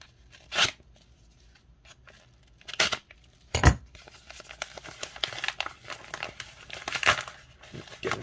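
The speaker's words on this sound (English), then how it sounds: "Get into this envelope here." Handling of a paper envelope holding a Jose Canseco baseball card, giving scattered close crinkles and rustles with a few sharper louder crackles and no talk.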